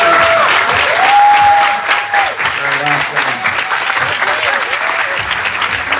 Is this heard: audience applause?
yes